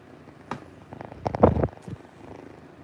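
A pet cat purring close by, soft low rumbling bursts with a louder swell in the middle, no talking over it.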